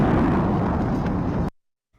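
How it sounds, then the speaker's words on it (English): A plant explosion recorded on a bystander's phone: a loud, broad roaring blast rumbles for about a second and a half, then cuts off abruptly into silence. "Viewer video captures the Thursday explosion."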